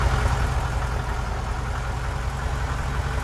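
A motorbike engine labours uphill in the IDBS Bus Simulator video game, giving a steady, low droning rumble with no voices.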